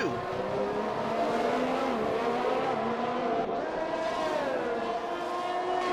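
Formula 1 cars race in a video game at Bahrain, their engines making a steady, continuous high whine with shifting pitch throughout, with no pauses.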